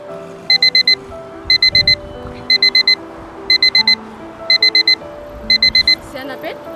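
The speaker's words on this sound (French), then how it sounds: "c'est mon alarme qui sonne." A phone alarm ringing, loud clusters of rapid high beeps repeating in regular bursts about once a second, with a voice and soft music playing underneath.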